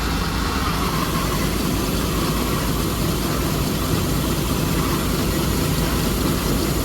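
A 1983 Chevy Holiday V8, started after sitting for ten years, runs continuously; its loud, steady, rumbling drone holds even throughout without pauses.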